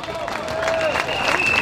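Audience at a peace rally in Paris breaks into sustained applause and crowd noise, a dense wash of clapping and cheering that holds steady throughout, with a thin whistling tone running over it.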